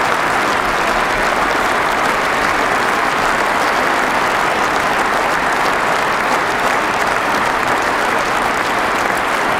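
Large hall audience applauding President Putin during his address to the Federal Assembly, sustained dense clapping throughout, loud and steady with no talk.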